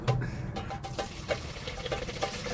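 Rum pouring into a half-litre measuring jug, a soft continuous liquid trickle with small gurgling pulses, fairly quiet and close, with no talking over it.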